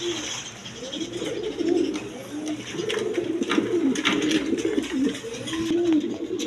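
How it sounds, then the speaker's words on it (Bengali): A pair of racing pigeons, a hen and a cock, coo steadily with repeated low rolling calls, close and continuous over a faint background hiss. "এখানে এক প্যার রেশার কবুতর আছে"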